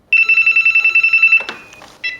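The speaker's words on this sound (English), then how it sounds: "there is a long, long, long wait until the phone rings." A telephone rings with a fast trilling bell in short pulses, loud and close, then breaks off into a few brief clatters and a second short burst of ringing.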